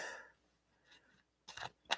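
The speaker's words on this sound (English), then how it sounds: "shuffle these cards" Tarot cards shuffled by hand, a few short crisp riffling bursts close up and fairly quiet, separated by brief silences.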